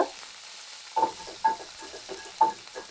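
Mustard seeds and a pinch of asafoetida hit hot oil as the tempering for a cabbage bhaji, giving a steady sizzle broken by several sharp crackling bursts at close range, with no talking.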